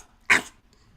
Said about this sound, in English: Now Bulldog bark is like